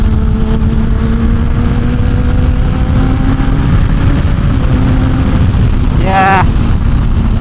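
A Kawasaki ZX10-R with a full Graves exhaust and aftermarket tune pulls away, its engine drone rising and then fading into the distance against steady outdoor background noise.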